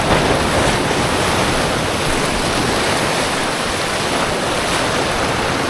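Strong sea current and waves at high tide make a steady, loud rushing wash of water, continuous and close with wind noise mixed in and no voices.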